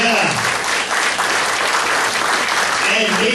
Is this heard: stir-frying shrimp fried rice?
no